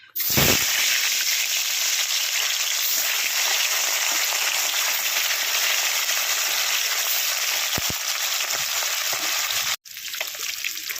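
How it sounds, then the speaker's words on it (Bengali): Rohu fish fries in hot oil in a wok, giving a loud, continuous sizzle that holds steady for several seconds, cuts out briefly near the end, then resumes. "কড়াই গরম হয়ে গেছে, তেল দিয়ে নেব, মাছটা ভেজে নেব।"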